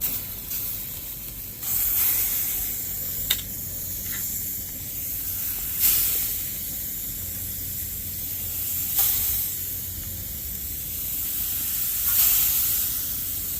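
Chicken kabobs with vegetables sizzle on a hot grill, a steady hiss broken by several short, sharper bursts of spray every couple of seconds, with no talking.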